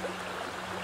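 Constant rushing of a stream, a dense, even wash of water noise heard close by in a brief stretch, with a faint low hum underneath and no talking.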